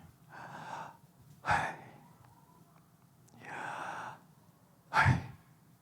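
Two sharp, audible inhalations, each a quick gasping intake of breath, separated by quieter breathy exhales, close and alone with no speech.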